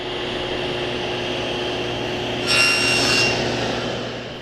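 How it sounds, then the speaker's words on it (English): A SawStop table saw cuts a tenon in a wooden workpiece, with a steady motor hum and a brief, louder bite of the blade through the wood midway. "I press the workpiece firmly against it, and I make a cut."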